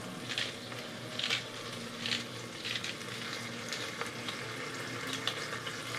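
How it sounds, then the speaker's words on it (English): Pork shoulder sears fat side down in hot oil inside an Instant Pot, giving a steady close sizzle with a few brighter crackling bursts and no talking. "our oil and our Instant Pot is hot now, and we are going to sear our pork shoulder"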